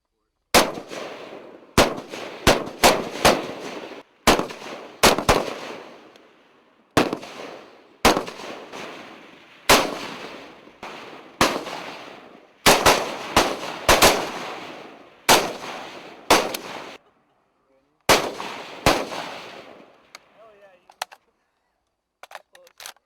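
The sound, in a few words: military gunfire, FAMAS rifle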